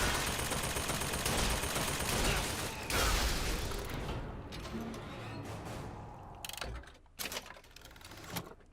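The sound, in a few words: turret firing in video game Bioshock Infinite: Burial at Sea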